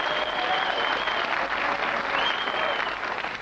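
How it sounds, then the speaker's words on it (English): A television studio audience applauding a celebrity guest on a quiz show, a loud, even roar of many hands clapping that holds steady throughout. "Lloyd, they can't wait to applaud you."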